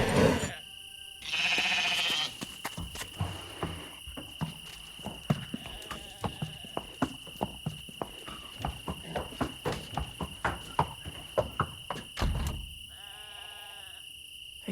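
Game sheep in Lost Lands 9 bleat in a short burst near the start and again near the end, with steady insect-like chirps, light clip-clop taps and a high ambient tone running through.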